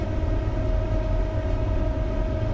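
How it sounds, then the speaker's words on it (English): An AC electric train runs on the Riviera electrified line in Train Simulator 2017, a steady, fairly loud low rumble with a sustained mid-pitched hum throughout and no speech. "This train can only run with electrification on top of it."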